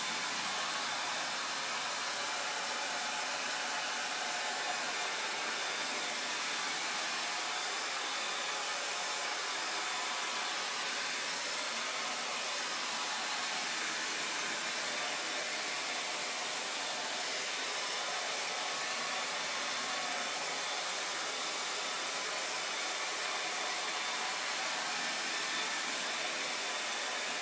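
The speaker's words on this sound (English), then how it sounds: "we are going to use the blow dryer and speed up this process." A handheld blow dryer drones with a steady, unbroken rush of air while drying layered paint on a piece of furniture, constant and moderately loud throughout with no talking.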